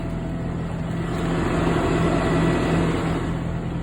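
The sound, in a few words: pickup truck engine running after oil change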